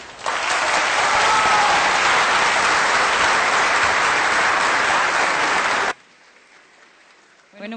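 An audience at a speaking competition bursts into loud, dense applause after a speech, sustained for about six seconds before cutting off abruptly, followed by quiet room tone and a brief voice at the end.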